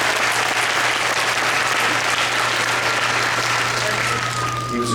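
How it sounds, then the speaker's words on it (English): A panel-room audience at a fan event gives Bill Paxton a round of applause in memory. The clapping is full and continuous throughout, with a low steady hum underneath and a few tonal sounds near the end. "Let's get a round of applause for it."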